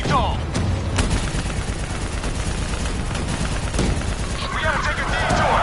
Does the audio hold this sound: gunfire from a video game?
yes